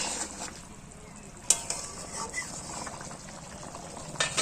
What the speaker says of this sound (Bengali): দেখো বন্ধু, চানা মশলাটা ফুটে গেছে।